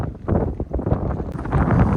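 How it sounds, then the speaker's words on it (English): Steady, loud wind buffeting outdoors in icy Icelandic cold near abandoned whaling ships, a rough low roar gusting without a break and no voices. "It's very windy and cold outside now"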